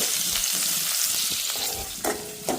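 Cumin and asafoetida sizzle in hot oil as tempering for an ivy gourd and chili sambharo, a bright steady crackle close up, with two sharper stirring scrapes near the end and no talk.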